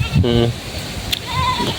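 Goats on a Philippine farm give a short bleat amid livestock sounds, heard close with someone speaking over part of it.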